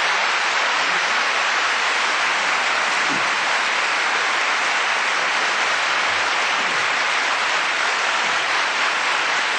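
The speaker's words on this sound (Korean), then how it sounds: "박수 한번 치시고." Sustained audience applause fills a university lecture hall after a former Korean president's leadership talk, dense, even clapping from a large crowd with no pauses, loud and continuous throughout.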